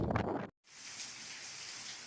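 After a brief gap of silence, heavy rain in Gujrat, Pakistan hisses evenly and continuously, a soft broadband wash with no voices.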